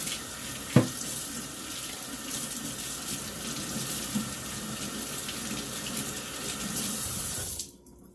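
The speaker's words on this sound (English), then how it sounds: "I gotta wash my hands" Hands being washed under a running kitchen tap while cooking crab-stuffed red snapper, a steady close rush of water that stops abruptly near the end.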